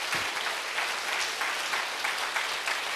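A church congregation at a Sunday worship service applauds in a dense, continuous wash of clapping, steady and fairly loud for the whole stretch.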